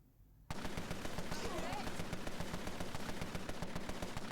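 Submachine gun fire in the Empire of Sin video game, a loud rapid burst of continuous automatic shots that starts abruptly and keeps a steady rattling rhythm to the end.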